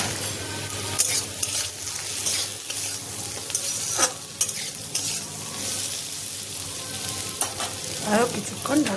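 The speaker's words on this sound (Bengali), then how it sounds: "আরও কিছুক্ষণ ঢাকনা বন্ধ করে ভেজে দেব" Potatoes, onion and bitter gourd fry in a pan for a karela posto, giving a steady close sizzle with scattered clinks and scrapes of stirring throughout.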